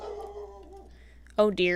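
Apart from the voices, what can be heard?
dog barking and whimpering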